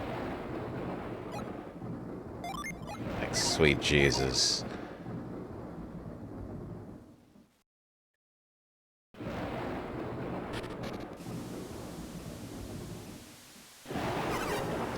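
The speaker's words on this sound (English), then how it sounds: "The thunder effect does sound nice." Rumbling game thunder rolls through a stormy scene with rain, swelling loud around mid-roll before a sudden cut to silence, then returning as a steady storm wash, with someone talking over it.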